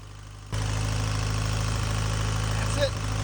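A long-stored barn find Fiat engine idles steadily and close by after a silent start, a low even hum with a faint mechanical knock and a brief higher squeak near the end.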